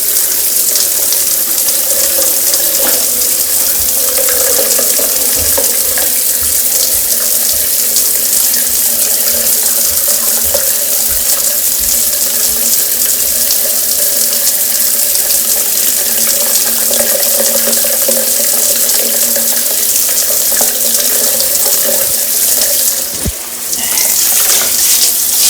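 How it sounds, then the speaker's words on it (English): Water running steadily from a tap after a clog of hair and dust was cleared, a continuous close rushing flow with no talk, briefly interrupted by a small knock near the end. "Okay, now we make the water come out. You see how the water ran again."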